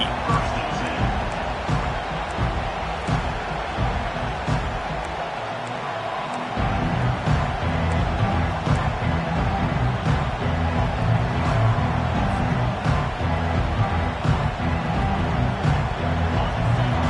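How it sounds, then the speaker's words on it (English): A football stadium crowd roars steadily and loudly as the home fans push to help their defense, a dense wash of noise with a play-by-play voice talking over it throughout. "Listen to this crowd just shaking the girders of this place, trying to help their defense"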